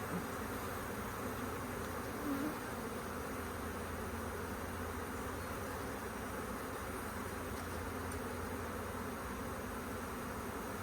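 Honey bees buzz steadily around an open hive in a bee yard, a dense, continuous drone with individual insects passing close to the ear, no talking over it.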